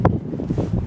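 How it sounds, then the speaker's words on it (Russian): Outdoor wind buffets the microphone in a brief, low rumbling gust heard close up. "Что-то ветер здесь такой."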